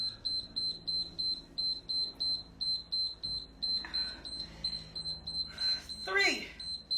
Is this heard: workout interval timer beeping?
yes